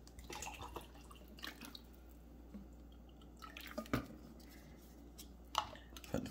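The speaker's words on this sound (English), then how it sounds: "So we're gonna add some more water." Water poured into an electric protein shaker bottle, faint splashing and dripping with a few louder knocks of plastic, close and quiet in a still room.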